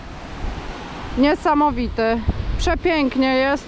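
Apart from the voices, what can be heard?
waterfall flowing down from a glacier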